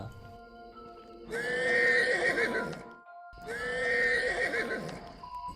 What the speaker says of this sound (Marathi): दूरवर एक घोडा खिंकाळत रस्त्याच्या मधोमध उभा असलेला दिसला